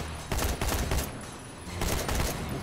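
Rapid bursts of gunfire from The Walking Dead: Survival Instinct video game, two loud clusters of shots with a lull between them, close and dense.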